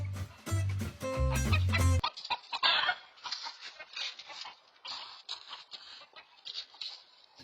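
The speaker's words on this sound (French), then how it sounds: "Si c'est le comportement du poulet ou si c'est la manière qu'il a de courir" Chicken clucking picked up by a motion-triggered security camera, a burst of short, scratchy clucks and patter following a loud music-like opening, fairly close and continuing in uneven bursts.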